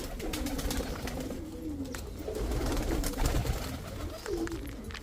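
Fancy pigeons, including Gorra and Kaldom breeds, coo at a pigeon seller's stall. Repeated low, rolling coos from several birds sound close by over a steady background murmur.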